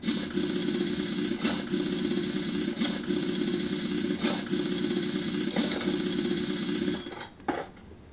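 A hydraulic car lift raising a car in a mechanic's garage in Car Mechanic Simulator 2021, a steady loud mechanical whir with faint periodic clunks, running for about seven seconds before cutting off abruptly.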